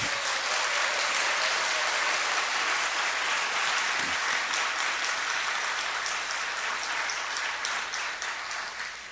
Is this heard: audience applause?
yes